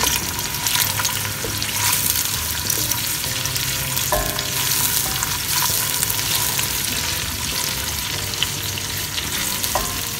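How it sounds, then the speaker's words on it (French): Onions with a pinch of salt frying in a pot for jollof rice, a loud continuous close sizzle with occasional stirring scrapes and clicks throughout. "Je jette les oignons. Je mets un tout petit peu de sel."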